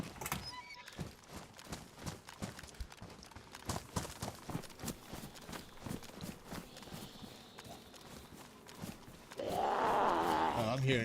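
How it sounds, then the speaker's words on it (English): Footsteps crunch and patter in DayZ, a steady run of close, evenly spaced steps with faint voices underneath, then a louder burst of noise near the end. "I'm hearing just footsteps everywhere."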